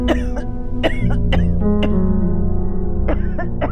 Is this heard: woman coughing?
yes